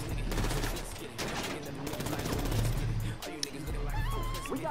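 Rapid gunfire crackles in GTA, a steady stream of shots at moderate volume under a chaotic mix of game sounds, with voices talking over it.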